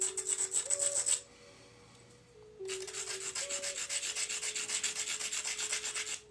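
A flint biface has its edges dulled with a steady rhythmic rasping, stroke after stroke. The sound pauses briefly, then resumes at an even pace, close and clear, with no voices.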